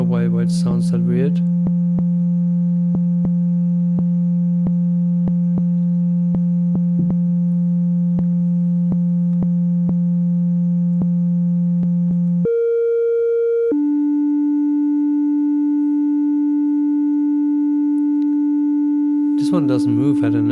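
A self-generating modular synthesizer patch in VCV Rack holds pure sine tones, a long steady low drone that steps abruptly to higher pitches, framed by short noisy bursts at the start and end.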